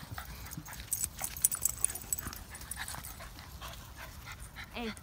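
A dog, a Puggle or Kleiner Münsterländer, panting and moving close by, with soft scuffling and faint whimpers at low level.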